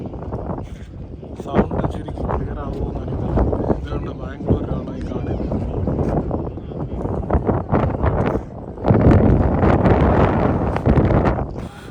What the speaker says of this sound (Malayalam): കാറ്റ് നല്ലപോലെ ഉണ്ട്